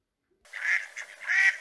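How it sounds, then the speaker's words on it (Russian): A duck, shown with other pond creatures, quacks twice, nasal and close, each call alone against silence. "Утка."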